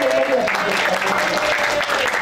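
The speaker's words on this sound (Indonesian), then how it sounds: "Kita beri tepuk tangan yang lainnya." A church congregation applauds during a Sunday service, a dense wash of clapping heard continuously and fairly close, with no clear speech over it.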